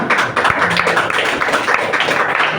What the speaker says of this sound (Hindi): सर तालियां थोड़ी है क्या?